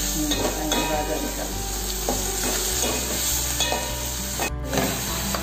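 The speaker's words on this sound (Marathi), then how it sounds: "हा फोडणी कांदा भाजता, मिरची मीठ घालता, जरा परतून घ्यायचं" Onion and green chilli fry in hot oil tempering for Malvani pithla, a steady close sizzle broken by repeated scraping strokes of a spoon stirring through the pan.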